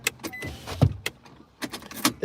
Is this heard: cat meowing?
no